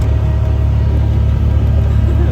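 Inside a moving car on a freezing day, a steady low road and engine rumble fills the cabin, continuous and even with no voices.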